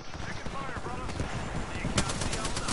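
Gunfire in an Apex Legends match, rapid automatic bursts and scattered shots, loud and close, with a player talking over the shooting.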